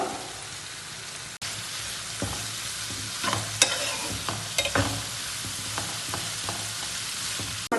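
Ginger, garlic, green chilli and curry leaves frying in a pan for an octopus roast: a steady close sizzle broken by a series of scraping stir strokes and small taps, with no talking.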